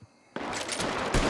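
A sheriff's firing squad volley rings out in Red Dead RP after a quiet moment, a sudden loud burst with a sustained, rumbling gunfire tail.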